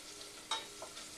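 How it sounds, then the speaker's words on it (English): Beans sizzle in a hot pan on a cooking show, a brief soft crackle with a small stir-like scrape in the middle, fairly quiet and with no talk. "Here I'm getting quite a bit of sizzle out of that now."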